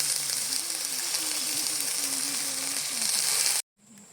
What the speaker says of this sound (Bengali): এবার আমি এখানে পরিমাণ মতো জল দিয়ে দিচ্ছি